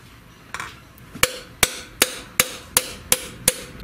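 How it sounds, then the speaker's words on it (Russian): A small hammer taps the valve spring caps of an engine in a garage: a steady run of about eight sharp metallic knocks, close and evenly spaced, with no voices. "Я вот эти вот тарелочки обстукиваю."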